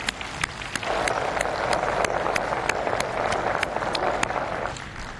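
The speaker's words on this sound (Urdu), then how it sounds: "اگر آپ ان کے لیے زوردار تالیاں نہیں لگائیں گے" An audience at a chamber of commerce event gives a dense, sustained round of applause, with many hands clapping loudly and steadily for several seconds.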